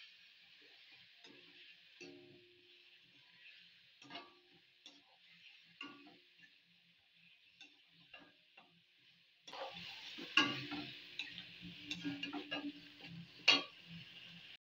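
Potatoes frying with masala in a pan give a faint, thin sizzle with occasional stirring taps, growing louder and busier partway through.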